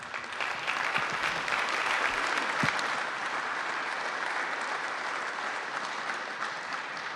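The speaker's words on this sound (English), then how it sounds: "Let's give them a big round of applause" Applause from an audience at a startup pitch event in Kansas City, a full steady round of clapping, loudest early and tapering slightly over several seconds.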